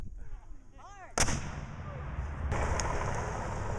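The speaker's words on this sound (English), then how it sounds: "Newton opened on them with concentrated artillery and rifle fire." A sudden loud blast of gunfire with a second sharp report, followed by sustained rumbling battle noise of concentrated artillery and rifle fire, from the Battle of Natural Bridge, Florida.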